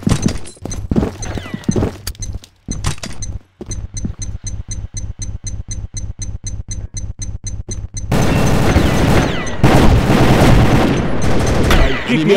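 Combat Arms online shooter match with rapid, evenly spaced gunshots cracking in a steady burst for several seconds, followed by a loud grenade explosion whose roaring blast and debris rumble fill the final seconds.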